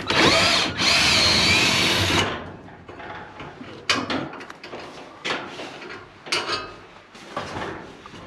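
A power drill drives a screw into a door fitting during a DIY garage build, with a loud two-second whine near the start, then lighter clicks, knocks and handling sounds close by.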